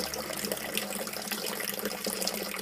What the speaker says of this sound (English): So turn that tap on